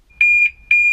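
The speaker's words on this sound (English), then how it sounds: "And now the alarm's going off." A BMW X5 car alarm going off nearby: loud, shrill electronic beeps, three in quick succession at a steady pulsing rhythm, with nothing else heard.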